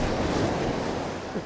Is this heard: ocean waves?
yes